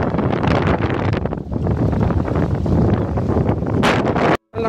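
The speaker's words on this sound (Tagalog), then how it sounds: "Ang lakas ang hangin, pasensya na kayo." Strong sea wind buffets the microphone on a fishing boat trip, a loud, roaring rumble that gusts and surges continuously before cutting out abruptly at the end.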